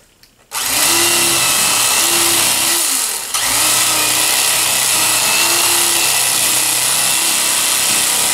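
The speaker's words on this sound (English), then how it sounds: "We're gonna take our electric fillet knife." An electric fillet knife whirs loudly as it cuts into a bowfin with tough, solid scales, its motor buzz starting abruptly, dipping briefly at about three seconds, then running on steadily.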